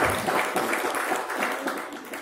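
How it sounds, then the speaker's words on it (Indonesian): Applause from an audience at an Indonesian talk on Sukarno and Pancasila, a dense burst of many hands clapping continuously for a couple of seconds, fairly loud and steady with no clear speech over it. "Tepuk tangan untuk kita semuanya yang punya karakter gotong royong."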